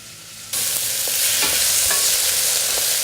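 Chilies, minced garlic and grated ginger hit a hot pan and sizzle loudly, a sudden burst of bright frying hiss that stays steady with a few soft stirring clicks, close up and without speech.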